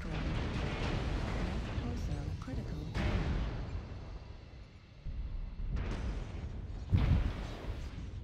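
Heavy booming blasts and rumbling explosions of video game missile fire, with sharp bursts around the middle and near the end over continuous low roar.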